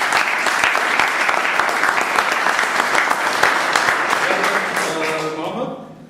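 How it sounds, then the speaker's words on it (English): A room of people at a meeting gives a loud, sustained round of applause, the dense clapping holding steady before fading out as a voice begins to speak. "Let's give him a big round of applause."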